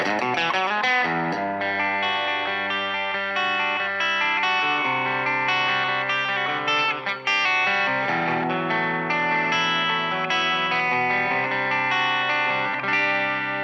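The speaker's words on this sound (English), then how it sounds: "Get into the bridge position, all of a sudden you have this nice full range sound" Yamaha Revstar electric guitar on the bridge pickup, chords ringing out with a full, bright tone and effects, sustained and strummed steadily, loud and close.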